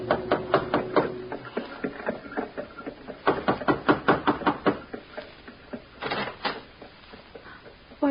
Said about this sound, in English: and knocked on a door.